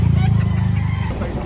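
Chickens and roosters for sale at a market in Lipa, Batangas, with a rooster crowing loudly and close, hens clucking alongside in a brief burst.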